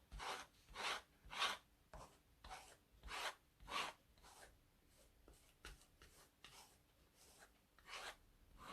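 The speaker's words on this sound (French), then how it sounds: "Donc là on va le gratter." Excess glue is scraped off leather with a plexiglass or glass plate, a faint series of short rasping strokes in an uneven rhythm.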